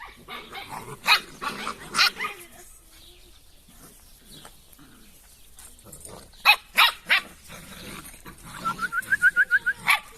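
A young Drahthaar puppy gives high, sharp yelping barks in scattered bursts, ending with a rapid run of yips. Faint voices can be heard in the background.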